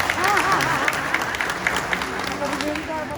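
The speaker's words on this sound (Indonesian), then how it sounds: "Tepuk tangan dulu, Pak." Audience at an Indonesian Ministry of Religious Affairs gathering breaks into brief scattered applause, with someone speaking over the clapping throughout.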